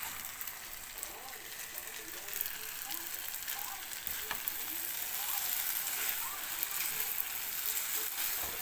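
Glass noodles being stir-fried with cabbage in a hot pan, a steady close sizzle with intermittent scraping and stirring clatter throughout.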